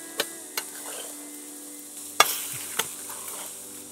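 Eggs and mushrooms fry on a Kelly Kettle grill with a steady low sizzle, broken by a few sharp clicks and scrapes of a utensil against the pan.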